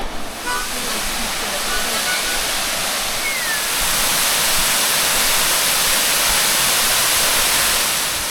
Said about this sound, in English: Past the waterfall.